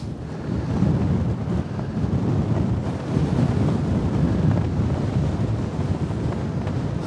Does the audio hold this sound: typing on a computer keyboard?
no